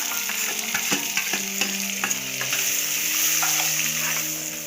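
Garlic and onion frying in oil with cumin seeds and asafoetida in a pan, a steady close sizzle with scattered crackles and occasional stirring clinks, no voices.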